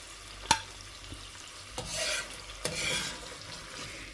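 Ingredients sauté in oil for mutton curry, with a sharp utensil tap followed by two stirring bursts over a soft, steady sizzle.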